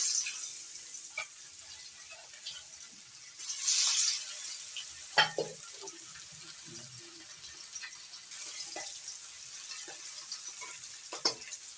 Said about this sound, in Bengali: বাকি ইলিশ মাছগুলো ভেজে নিচ্ছি